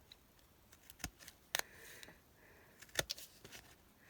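Scissors snip at an envelope to trim and fix its holes. A few sharp, quiet clicks and cuts come in irregular bursts against a near-silent room.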